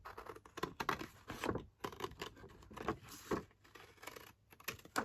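Scissors cut across master board paper scraps close up, giving quiet, irregular snips and papery crinkles with short pauses between them.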